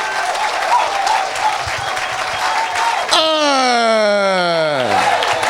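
A church congregation applauding, with a steady roar of clapping and crowd noise that is soon joined and partly covered by a loud, sustained sliding wail that falls in pitch.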